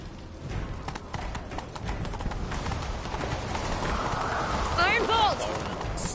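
Horses gallop during a video game chase, a steady rush of hoofbeats building over several seconds, with a brief whinny near the end and game voices and music mixed in.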